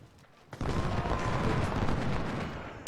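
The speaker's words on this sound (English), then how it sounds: "I hear gunfire." Gunfire in Ultimate General: Civil War at a Gettysburg battle erupts suddenly and holds as a dense, rumbling roll of massed musket and cannon fire, loud and continuous, with no talk over it.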